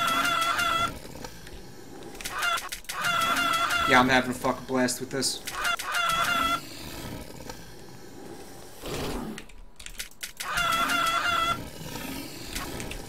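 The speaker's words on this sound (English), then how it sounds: "Thank you for the infinite chicken ammo." Clucking and crowing chicken sounds fired as infinite ammo in a video game, recurring in bursts with other game effects while someone talks over them.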